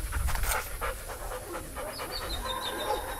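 Belgian Malinois dog panting steadily and close by, quick rhythmic breaths across a few seconds with a faint whimpery edge.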